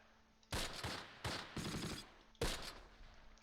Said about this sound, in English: They are shooting at it.